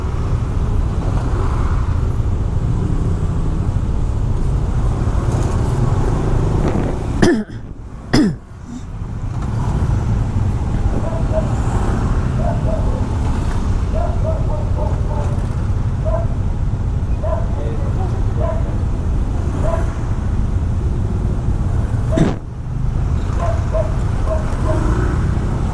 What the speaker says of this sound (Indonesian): Jalan sempit juga macet tuh bro.